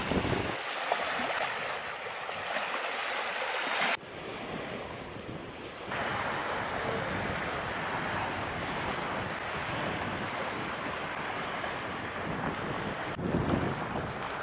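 Cold wind gusting steadily across open coastal marshland, a broad continuous roar with heavy buffeting on the microphone, easing briefly before rising again, no voices present.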